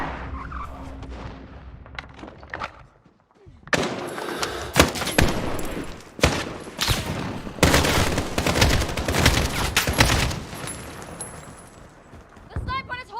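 Gunfire in a Call of Duty campaign mission: after a quieter opening, sharp bursts and volleys of shots erupt repeatedly, loud and dense, broken by brief lulls, with game voices and a player talking among them.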